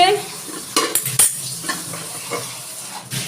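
Leftover meat is reheated and stirred in a pot, with a utensil scraping and clinking against the metal in irregular strokes over a soft, low sizzle, close and fairly loud.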